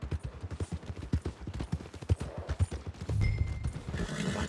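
Horse hooves clip-clop in Red Dead Redemption 2 as a rider nears the stables, a quick steady rhythm of close, crisp hoofbeats, joined near the end by a louder burst of mixed game sound.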